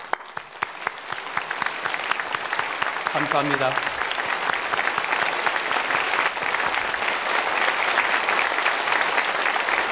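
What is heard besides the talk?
applause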